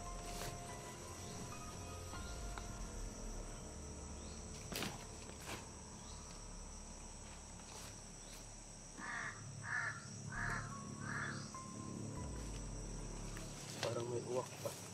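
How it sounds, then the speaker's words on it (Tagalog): A crow caws several times in a quick run, faint and distant, over a steady bed of insect chirring and rustling outdoors. "Parang may uwak pa."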